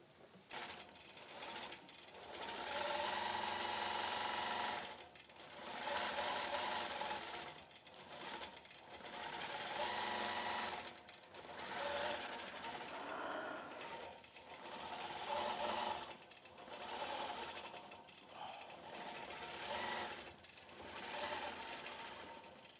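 A sewing machine quilts a cross stitch quilt in repeated runs of steady, fast stitching, each burst lasting a few seconds with brief pauses between, close and fairly loud throughout.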